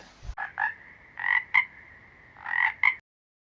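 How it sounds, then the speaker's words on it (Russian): A frog croaks in a series of short, nasal calls, some clustered in quick pairs, clear and close with a faint background hiss. "лягушка квакает"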